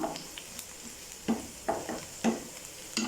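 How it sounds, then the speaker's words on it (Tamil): Onion, green chili and curry leaves sauté in hot oil with a soft, steady sizzle, while a spatula strikes and scrapes the pan several times in close, distinct bursts, and nobody talks. "இப்போ இதை நல்லா வதக்கி விட்டுக்கரலாம்"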